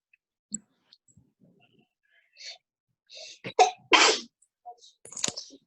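A sneeze bursts out during a quiet portrait drawing class, loud and close, with a second sharper one just after it. Scattered small clicks and a faint throat sound come before it.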